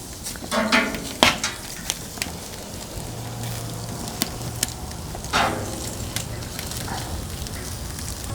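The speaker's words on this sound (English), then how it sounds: "You can even just hear it sizzling." Food sizzles on a cast iron grilling surface over a Solo Stove wood fire, a steady crackling hiss with occasional sharp clinks of a metal utensil against the iron, close and moderately loud.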